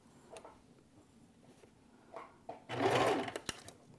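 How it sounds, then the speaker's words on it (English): Short bursts of a sewing machine stitching fabric, a few stitches at a time: faint quiet ticks at first, then a louder, rapid rattling run near the end. "Just sewing a few stitches at a time while you get the hang of it."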